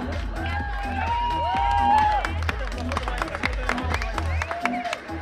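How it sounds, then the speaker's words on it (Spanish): Applause and cheering from a crowd at a traditional-festival beauty pageant in Nuevo Galeana, Guerrero, with rhythmic clapping, shouts and whistles over loud festive music with a thumping beat. "Fuerte el aplauso, por favor."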